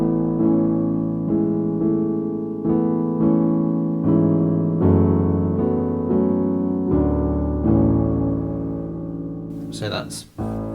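A piano plays an easy arrangement of a song, a steady run of sustained chords with a melody on top, close and clear, ending in a brief burst of speech near the end.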